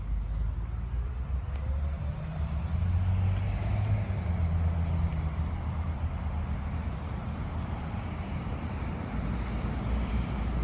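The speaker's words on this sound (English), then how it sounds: "It's a Bondi Junction 390X bus from La Perouse." A Bondi Junction 390X bus from La Perouse rumbles past with a steady low engine drone and road noise, fairly loud and continuous with some wind buffeting.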